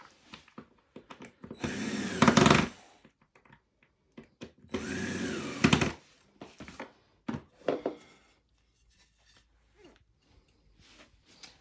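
A power drill drives black screws into a 70-inch LED TV stand with pull-out drawers, two sustained whirring bursts followed by shorter blips and light handling clatter, close and otherwise quiet.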